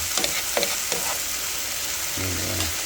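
Garlic fries in a pan with a steady, loud sizzle, while a utensil stirs it, scraping several times across the pan close by.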